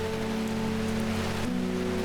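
Steady rain in the video game Strange Horticulture, a soft continuous patter under sustained background music with a single shift in the music partway through, and no talking.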